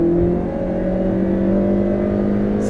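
A 2020 Honda Civic with a 1.6 engine at full throttle, droning steadily and loudly from inside the cabin as it accelerates, its engine tone holding a sustained hum with no talk.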